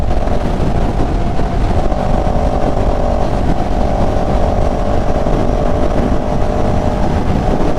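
A CFMOTO CLX700 motorcycle ridden in sport mode at speed, with a loud, continuous engine drone and heavy wind rush that hold steady throughout.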